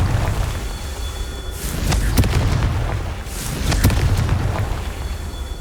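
Confringo fire spells detonate in Hogwarts Legacy: two heavy booming blasts about two seconds apart, each with a sharp crack and a rumbling tail, over a steady low background roar.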